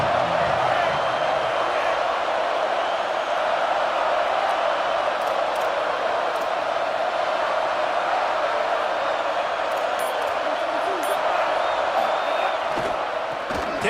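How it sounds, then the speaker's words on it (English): Large football stadium crowd roaring in a steady, dense wash of cheering and shouting that holds loud and unbroken throughout, with occasional sharper whoops rising above the din. "This crowd ready to make its presence known."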